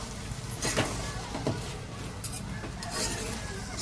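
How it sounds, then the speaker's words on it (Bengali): A spoon stirs grated carrot halwa in milk in a pan as it dries down, giving steady scraping and stirring sounds with a few sharper clinks against the pan and a soft background sizzle, with no voices. "ভালো করে নাড়াচাড়া করে শুকিয়ে নিচ্ছি।"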